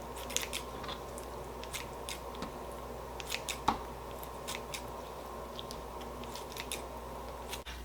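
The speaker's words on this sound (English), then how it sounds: "I'm going to start off by just cutting my lobster in chunks." Uncooked lobster is cut into chunks with repeated snips and crunchy cutting sounds, scattered irregularly and fairly close, over a steady low kitchen hum, with no talking.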